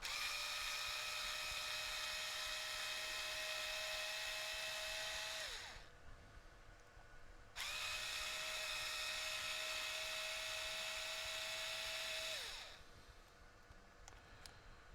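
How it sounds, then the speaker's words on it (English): A powered screwdriver backs small screws out of a Traxxas TRX4 rear axle, giving a steady, close motor whine in two long runs of about five seconds each, separated by a short pause. "Take these 4 little screws out here."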